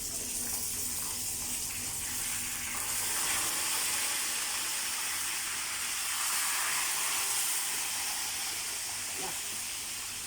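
Fish frying in oil in a covered pan, giving a steady, loud broadband sizzle with hiss throughout and no talk.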